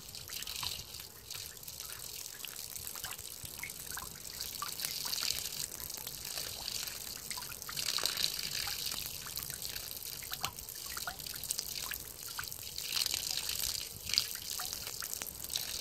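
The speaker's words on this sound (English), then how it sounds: "This leak in the water pipe sure is convenient for this manatee." Water leaking from a pipe onto a marina dock, a steady trickle with irregular splashes and drips against a constant hiss of outdoor background noise.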